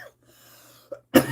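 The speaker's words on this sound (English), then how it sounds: "This is the period of the stream where I just cough repeatedly." Someone coughs close to the microphone during a live stream, first a faint throat sound, then one sharp, loud cough at the end after a brief quiet pause.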